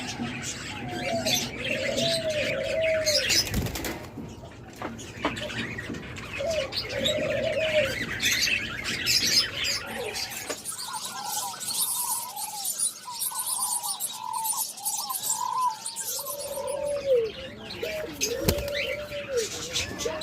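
Caged pet birds including doves, cockatiels, lovebirds and budgerigars, with repeated soft dove coos and scattered chirps over a busy, noisy background, fairly close and ongoing.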